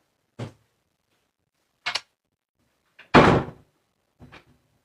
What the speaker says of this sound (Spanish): Pero cierra la puerta, cariño.